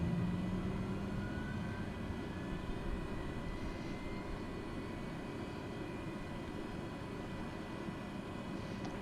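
Cessna 208B Caravan turboprop engine starting up in Flight Simulator 2020, heard as a steady broadband roar with a faint rising whine, constant and moderately quiet throughout.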